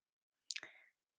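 A single computer mouse click, one crisp short tap standing alone in near silence.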